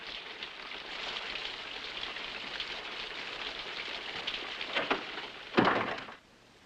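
Steady rain hisses on surfaces for several seconds, with a couple of louder knocks or creaks near the end, as of a door or wood, before the sound cuts off abruptly.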